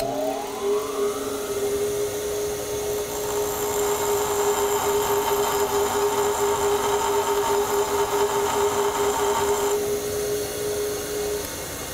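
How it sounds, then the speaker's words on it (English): A bench grinder whirs steadily as a steel chisel is laid against the stone, a continuous close whine with a faint grinding hiss and no talk. "So I just very simply use the bench grinder, and I'm going to just lay it on the stone and very carefully work it."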